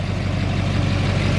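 A 2007 Duramax LMM 6.6-litre diesel dually pickup idling with a new 4-inch exhaust and EGR delete, giving a steady, deep low rumble with no variation in pace and no talk over it.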